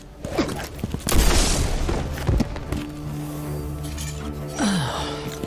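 Gunfire in the Destiny video game, Season of Defiance, with several sharp booming shots and thuds in a short burst over a busy game soundscape, with tonal effects following.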